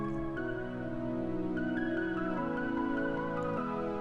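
Sustained synth chords carry a layered melodic loop built from Serum presets, with changes in the harmony roughly every second and a steady level throughout and no voices.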